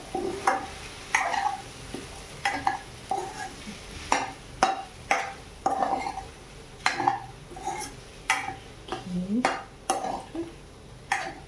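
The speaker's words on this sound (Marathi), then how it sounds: "सगळ्या साबुदाण्याला तेलातून व्यवस्थित परतून घेऊया." Sabudana stir-fried in oil in a pan for khichdi, with steady rhythmic scraping strokes about once a second over a soft continuous sizzle, close and clear.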